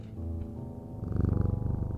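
A cat in the game Strange Antiquities purrs softly, faint at first, then a closer, louder rhythmic rumbling purr pulsing steadily in the second half, with no talk.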